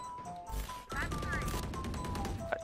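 Rapid video game gunfire punches through a wall in a first-person shooter match, a dense burst of close, sharp shots over game sounds and players talking.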